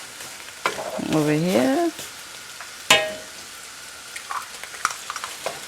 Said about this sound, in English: And we stir it